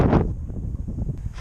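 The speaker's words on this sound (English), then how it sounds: "Oh, it's so windy and nice." Wind gusting across an open hillside above a town, a low rumbling buffet hitting close to the microphone throughout, unsteady and fairly loud with no voices.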